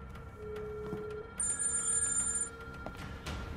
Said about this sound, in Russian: Попробую Черкасову. Ну, звони, конечно.